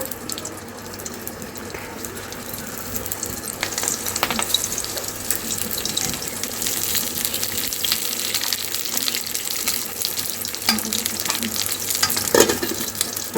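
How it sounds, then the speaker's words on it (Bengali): Leaves wrapping paneer for paneer paturi fry in hot oil in a kadai, a steady close crackling sizzle that holds throughout, with occasional louder pops and stirring clinks. "এবার আমি একে একে পাতাগুলো সব ভেজে নেব।"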